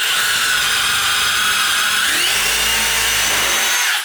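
A power drill whines steadily at high pitch as it bores into a wooden kitchen cabinet filler strip, the tone shifting slightly under load before stopping abruptly.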